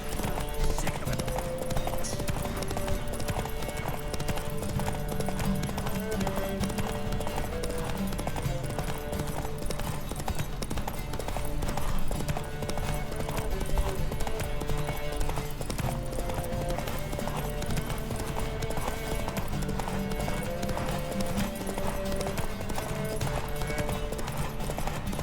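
Horses galloping in The Witcher 3, a continuous rapid clip-clop of hooves with an occasional whinny over a steady game soundtrack, lasting throughout.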